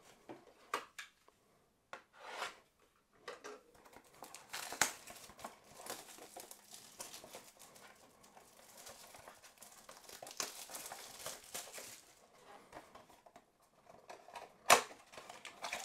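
A 2021-22 Panini Crown Royale basketball card pack is torn and crinkled open up close, sharp ripping bursts and rustling scattered over about sixteen quiet seconds.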